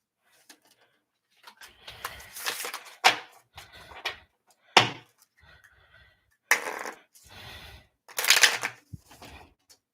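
Riffling and shuffling of a tarot card deck in several bursts with pauses between, close and fairly crisp, no talking.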